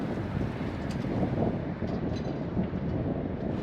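Steady, blustery wind in Mallorca rumbles loudly against the microphone throughout, with no other clear sounds.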